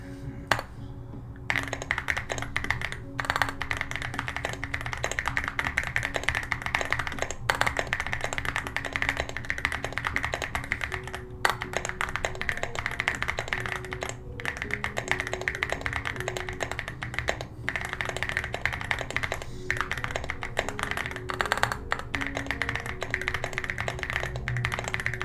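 Steady, quick tapping of keys on a computer keyboard during a typing test late in the evening, a dense run of close, crisp clicks with brief pauses and no talk.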